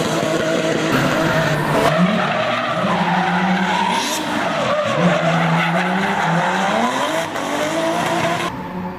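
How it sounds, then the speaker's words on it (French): An old BMW E36 318i with a welded differential drifts, its tires squealing and skidding in long loud sweeps over a revving engine, near and continuous without speech. "Numéro 2, le drifter. Lui, vous allez le voir rarement rouler tout droit sur la route."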